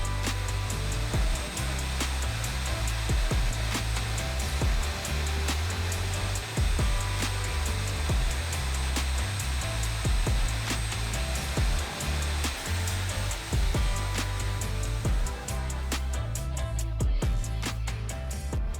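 A vacuum cleaner drones steadily up close as it sucks loose dirt from the storage area under the rear seat of a Chevy 2500HD High Country truck, with small clicks and knocks as the nozzle moves about.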